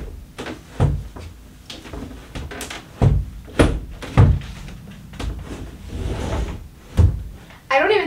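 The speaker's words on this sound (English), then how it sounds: "This is one thing that I'm gonna not miss about living here are these doors." Heavy apartment doors opening and closing, with several loud thuds and clunks spaced across the span and a voice talking in between.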